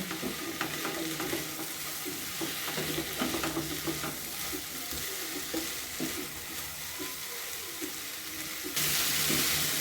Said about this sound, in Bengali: দিয়ে এবার ভালো করে মিশিয়ে নেব।